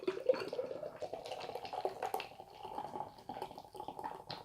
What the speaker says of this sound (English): We'll give it a hard pour here.